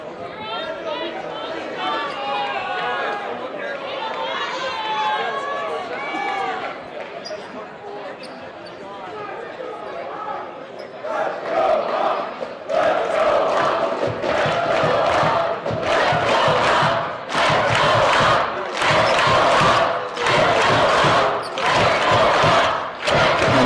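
A home crowd at a Swarthmore versus Hopkins college basketball game cheers and chants loudly, with sneaker squeaks and ball bounces in the gym, building from chatter into rhythmic bursts of noise alongside talk.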